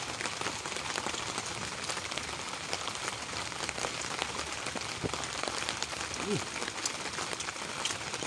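Rain falls steadily at night, a dense, even patter on surfaces that holds without a break throughout, with only a faint murmur of voices in the background.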